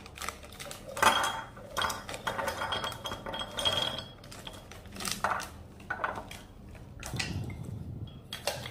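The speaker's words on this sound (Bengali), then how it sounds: "কালকে নিয়ে আসা ওই ড্রাই ফ্রুটসগুলোকে একটা একটা করে ঢেলে রাখি শিশিতে" Dry fruits tipped one by one into glass jars in a home kitchen, giving scattered clinks, rattles and hard taps against glass, with bursts of pouring and handling noise in between and no talk.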